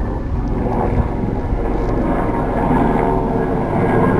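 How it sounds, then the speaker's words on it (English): A firefighting helicopter flies overhead during a wildfire at Monsanto, Castelo Branco, its engine and rotors making a loud, steady, broadband roar that fills the whole stretch without letup. "that's one helicopter, and here comes another one."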